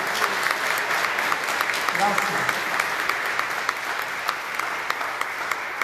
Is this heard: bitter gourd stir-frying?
no